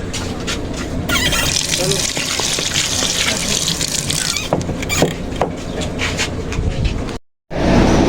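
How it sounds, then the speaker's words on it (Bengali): Water gushes steadily from a tap at an outdoor washing spot where people rinse hands and faces and collect drinking water, a loud continuous splash with voices talking over it, cutting off briefly near the end before resuming. "এখন এখানে আমরা হাত মুখ ধোবো প্লাস খাবার পানি নেব।"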